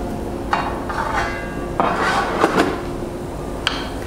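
A spatula scrapes and clinks against a metal pan while turmeric, chili, coriander, cumin powders and kasuri methi are stirred, giving several distinct metallic knocks and scrapes over a low background hiss, without talk.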